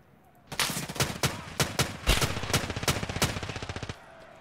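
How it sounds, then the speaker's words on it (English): Sustained automatic gunfire from a teammate in Escape from Tarkov: Arena rattles out in rapid, evenly spaced shots for several seconds, loud and close, then stops abruptly. "Why is my teammate shooting me?"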